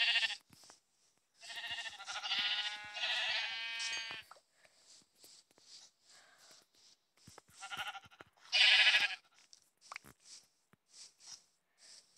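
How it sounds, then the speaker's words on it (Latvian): Sheep in the Minecraft video game bleat in several loud, wavering bursts separated by quiet gaps, with soft game footsteps and small clicks scattered in between. "Te ir aitas diezgan. Tā vācam aitas."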